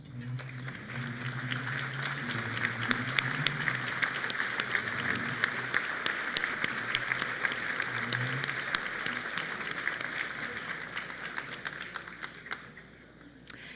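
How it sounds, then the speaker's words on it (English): Applause for a standing board of directors at an annual charity breakfast event, steady crowd clapping filling a large room, moderately loud and sustained for over ten seconds before fading out. "Would you all please stand so we can give you a round of applause this morning?"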